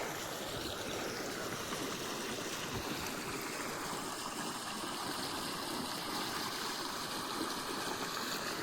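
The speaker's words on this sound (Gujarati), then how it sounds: "આપણે પાણી પાછું થઈ ગયું છે ચાલુ." Irrigation water flows steadily on a farm, a continuous broadband rush like a stream, even and unbroken throughout with no talk over it.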